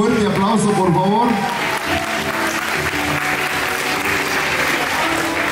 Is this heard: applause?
yes